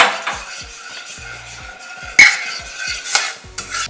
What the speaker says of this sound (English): You know, you just kind of stir it a little bit.